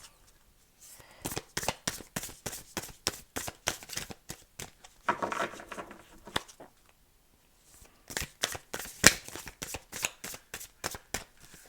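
Tarot affirmation cards are shuffled by hand in repeated quick bursts of crisp riffling and flicking, close and clear, with a brief pause in the middle before the rapid shuffling resumes.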